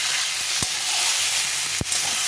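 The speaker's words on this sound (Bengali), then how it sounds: "এখন এই মশলাটা দিয়ে দেব দিয়ে ভালো করে এটাকে ভেজে নেব" Ground spice paste fries in a pan for a pointed gourd curry, a continuous close sizzle with two sharp clinks of a utensil against the pan, and no one speaking.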